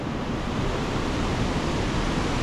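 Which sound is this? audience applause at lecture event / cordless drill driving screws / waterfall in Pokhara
waterfall in Pokhara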